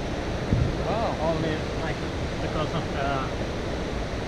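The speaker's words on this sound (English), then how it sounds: "Oh, and there's the big waterfall" A big waterfall in Abisko National Park, Sweden, roars as a steady broadband rush throughout, with people talking over it outdoors.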